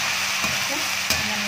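Fenugreek greens cook over low heat while a spoon stirs them in a pan, giving a steady sizzle with a couple of brief scraping strokes.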